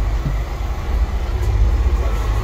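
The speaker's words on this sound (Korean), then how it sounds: "트램 체험." Steady low rumble and hum of a tram moving along its tracks in Lisbon, heard from inside, with no voices.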